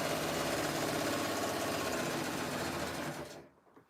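A sewing machine runs fast and steady, stitching a jelly roll fabric strip for a rug, its close, loud mechanical whir holding constant for about three seconds before winding down and stopping.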